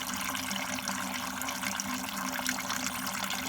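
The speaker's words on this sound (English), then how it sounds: "And drain it all out the radiator." Coolant drains from the radiator of a 1998 Mustang GT, a steady close trickling, splashing stream of liquid that runs on continuously and quietly without a break.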